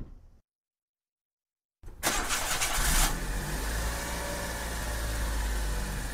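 A rental car's engine cranks and catches after a short silence, then settles into a steady, fairly close idle that continues to the end.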